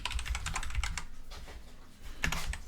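Computer keyboard clattering as a command is typed into an administrator command prompt, a steady fast run of close key clicks with a brief pause and then another flurry.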